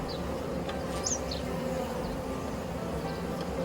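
Honeybees buzz steadily inside a newly opened backyard hive with fresh comb, a dense close-up hum that fills the whole clip without any talking.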